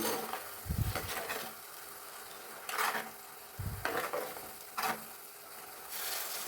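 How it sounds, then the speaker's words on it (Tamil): A pot of thick Tamil fish curry bubbles and simmers with a soft hiss, broken by a few low thumps and clanks of a spoon stirring. "குழம்பு நல்லா கொதி வந்துருச்சு."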